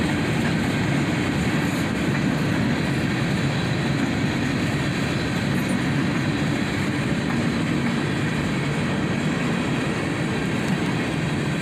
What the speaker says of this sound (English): Here's an old Chicago Northwestern car.